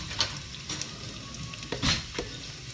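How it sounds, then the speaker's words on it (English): Lamb and chickpeas frying in a pan and being stirred, a steady soft sizzle with a few scraping spoon strokes over it, fairly quiet and close, no voices. "The lamb is going to be cooking here for another 10 minutes or so until tender. I need to stir that up too."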